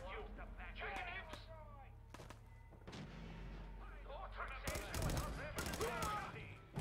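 Pistol shots crack in the video game Fallout 4, a few sharp reports scattered mostly toward the end, with a person talking over the game audio.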